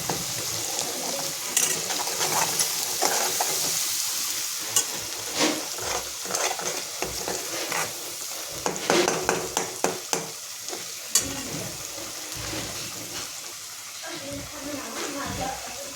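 Whole curry leaves sizzling in hot oil, a steady hiss broken by irregular pops and spatters plus a few clinks of a spoon against the pan, moderately loud and continuous.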